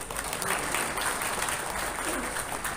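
An audience at a comedic talk event claps in steady, dense applause, a continuous crackle of many hands at close range.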